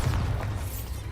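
Bombarda spell blast in the Hogwarts Legacy video game: a brief, deep boom with low rumble, loud and close, fading quickly.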